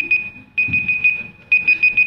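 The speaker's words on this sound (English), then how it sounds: "That's the timer." A 15-minute timer alarm goes off during a talk on acoustic monitoring of harbour porpoises, giving rapid bursts of sharp, high-pitched electronic beeps in two clusters, loud and close, with faint murmuring underneath.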